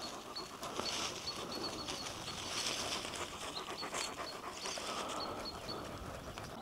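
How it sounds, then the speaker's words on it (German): A dog pants steadily and rhythmically up close on a lawn at a farm in Finland, with faint wind and a few thin bird chirps in the background. "Man hört nur den Hund häscheln und ab und zu den Wind und ein paar Vögel."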